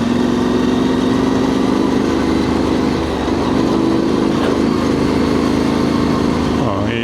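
A Yamaha Tenere Extreme motorcycle engine pulls steadily in third gear on a dead-end rural trail, a loud continuous droning thrum with a brief dip midway and a shift in tone at the end, no talk.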